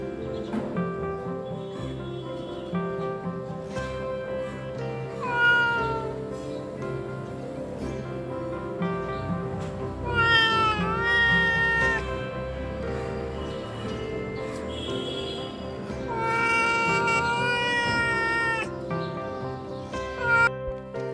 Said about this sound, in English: Can you help anybody to rescue this cat from this pain, leg pain?